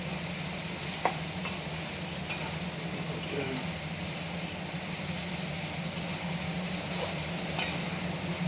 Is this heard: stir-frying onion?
yes